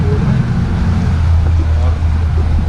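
A water taxi boat ride at the Al Fahidi station in Dubai brings a steady low engine rumble close by, mixed with water wash and wind noise.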